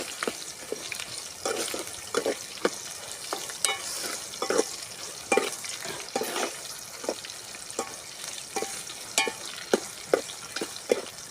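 Vegetables sautéing in oil in a pan for a village-style kuzhambu, soft sizzle under repeated scraping stirs of a spoon, rhythmic and fairly close, without speech.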